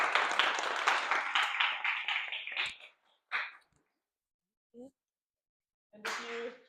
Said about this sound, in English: So please, let's give them an applause.